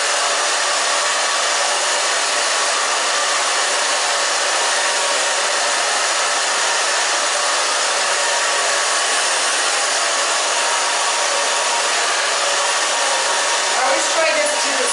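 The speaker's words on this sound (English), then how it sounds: "Okay, I'm just going to dry it. So I dry the whole back down." A hair dryer runs steadily and loudly throughout while styling thin hair in a pixie cut, a continuous airy roar with no pauses, and a faint rustle near the end.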